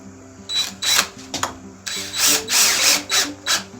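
A power driver sets screws into wood in short whirring bursts, about six quick pulses with brief pauses, close and fairly clear.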